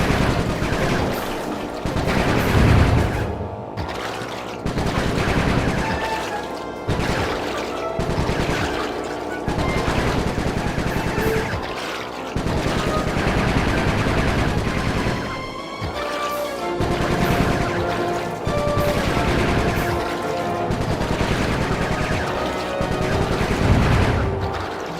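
Gunfire in the video game Sly 3: repeated bursts of rapid shots and impacts with short pauses between them, loud and dense over game music and effects.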